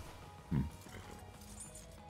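Horse hooves from a RedM roleplay game, a single brief thud of movement near the start, then a quiet ambient bed with no further distinct steps.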